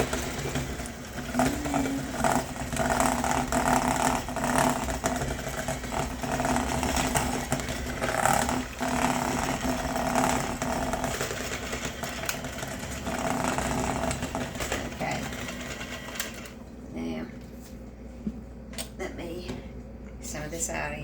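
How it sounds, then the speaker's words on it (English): Electric hand mixer beating softened butter with 4 ounces of room-temperature cream cheese for cake icing, a steady whirring drone running the whole time and cutting off near the end, with talk over it. "mix them with your mixer."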